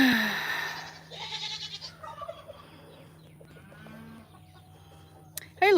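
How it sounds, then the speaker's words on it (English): Farm goats calling amid other fowl-like animal noise, several wavering bleats spread across the clip over a steady low background hum, one loud close cry near the end. "The goats."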